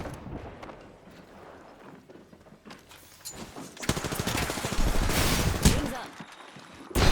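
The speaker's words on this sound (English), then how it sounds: "I can hear gunfire right here" Gunfire in the video game Apex Legends, bursts of automatic shots with sharp cracks that swell louder toward the end over busy game noise.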